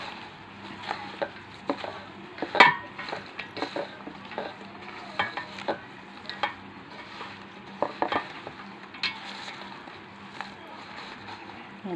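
Spatula stirring and mixing food in a pan, with intermittent scraping clacks and soft clinks over a low steady background, moderately close.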